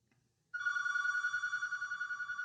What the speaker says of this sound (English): And I'm not going to get my phone.